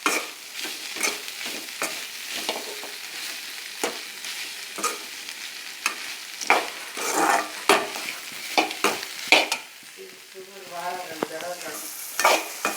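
Bitter gourd being fried and stirred in oil for tamarind curry, a spoon scraping the pan in repeated sharp strokes over a soft sizzle. The strokes come in irregular bursts, close and clear, with no talking.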